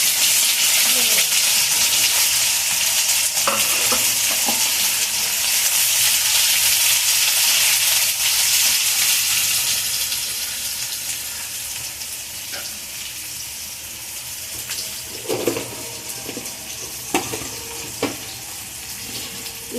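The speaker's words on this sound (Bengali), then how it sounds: "পেঁয়াজে আমি একটু লবণ দিয়ে দিচ্ছি, তাহলে পেঁয়াজটা তাড়াতাড়ি ভাজা হয়ে যাবে।" Sliced onions with a pinch of salt fry in a pan for a chicken curry, giving a loud continuous hiss and sizzle that eases after about ten seconds into quieter crackling with occasional stirring clinks.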